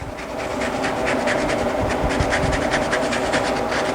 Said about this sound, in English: We'll grate some lemon zest.